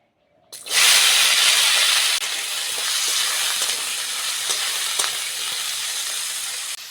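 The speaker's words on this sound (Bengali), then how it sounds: "প্রথমে কড়ার মধ্যে অল্প করে তেল দিয়ে আলু আর বরবটিটা ভেজে নেব প্রথমে আলুটা দেবো" Potatoes and yardlong beans drop into hot oil in a kadai and break into a loud, steady sizzle that rises sharply at first, then settles into a continuous frying hiss.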